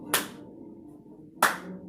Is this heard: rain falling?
no